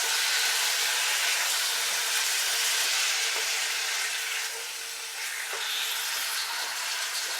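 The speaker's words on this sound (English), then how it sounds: "Now, I'm going to keep stirring this." Honey lime chicken frying in a pan while being stirred, a steady bright sizzle with soft scraping stirs, close and continuous, no talking.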